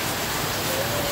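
Heavy rain pours down in front of a house in Batam, a dense, unbroken hiss of falling water that stays loud and even throughout.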